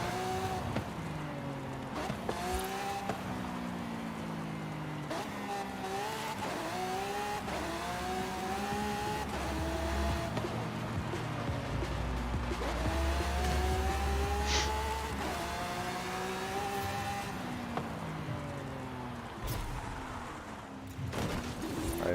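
Video-game racing car on a hot lap of the Mexico circuit, a Lamborghini Aventador widebody, with a steady engine drone rising and falling through gear changes, the pitch sweeping up repeatedly across the lap, continuous and fairly loud.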